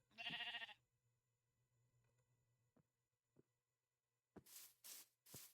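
Sheep in a peaceful survival video game give one loud, close bleat at the start, then go quiet. A few short, breathy bursts follow near the end, with no talking.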